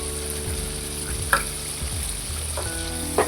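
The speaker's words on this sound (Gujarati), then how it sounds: "હવે આને છે ને 2 મિનિટ પકવીએ અમને।" Masala paste for pav bhaji fries in pure groundnut oil, a steady close sizzle with occasional soft stirring scrapes and small pops, no voices.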